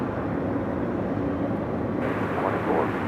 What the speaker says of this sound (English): the One World Alaska 737 now rolling down to 5 right